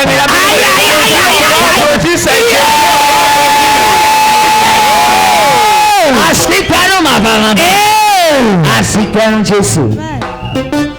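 A loud congregation at a church gathering cheers and shouts, with whoops and bellowing voices swelling over a sustained tone, dense and close throughout.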